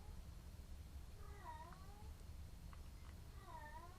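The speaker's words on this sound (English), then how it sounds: "Hear that cat meowing?" A female cat in heat meows in a few drawn-out, wavering cries, fairly faint over a steady low background hum.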